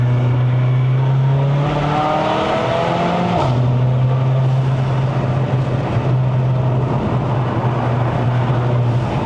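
A Stage 2 tuned C117 Mercedes-AMG CLA45 accelerates hard on a winding mountain road in Malaysia. Its engine holds a loud, steady drone with a brief gear change partway through, heard from inside the car.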